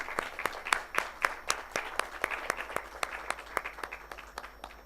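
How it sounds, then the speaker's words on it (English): Conference audience at an architecture event claps in fairly sparse, distinct, rhythmic claps that fade slightly toward the end, with no talking. "So a big round of applause for all of them."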